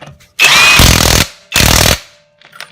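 Cordless high-torque impact wrench tightening a nut back on, two loud hammering bursts of roughly a second each separated by a short pause, close up, followed by faint clicks.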